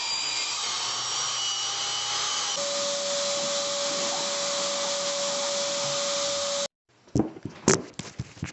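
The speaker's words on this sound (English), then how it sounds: "when I cut through the floor, I have to set this blade here to the same number" A power saw cuts through a mobile home floor with a loud, continuous whining roar that steadies into a sustained tone for several seconds, then cuts off abruptly, followed by scattered clunks and knocks.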